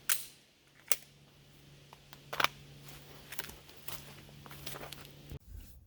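Three sharp, close shots spaced well apart during live-fire shooting practice, with quiet handling noise between them and a faint steady hum underneath.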